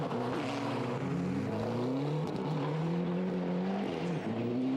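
A 1997 Ford Escort World Rally Car drives on snow, its engine loud and close throughout, pitch climbing and dipping as it revs through the gears with a continuous rasping roar.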